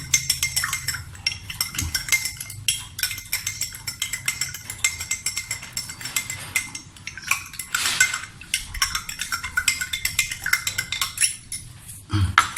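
Egg yolk mixture, one egg, stirred in a bowl with cutlery, giving steady close clinking and scraping against the bowl throughout, with no voices.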